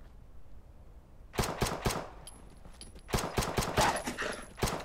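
Gunfire in the Fallout: London video game comes as two loud close bursts of rapid shots, a quick cluster of four or five, a short pause, then a longer run with one final shot.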